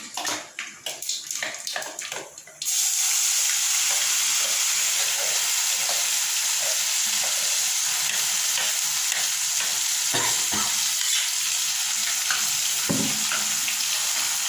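A loud burst of sizzling as ground pirandai paste hits hot oil, then steady frying hiss with occasional stirring scrapes, close and continuous.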